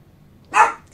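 A single short dog bark in a horror video game set around a house, loud and abrupt over quiet background.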